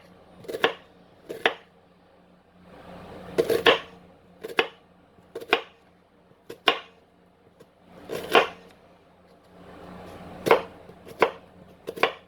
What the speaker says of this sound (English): it is 2 medium onions chopped for 1 recipe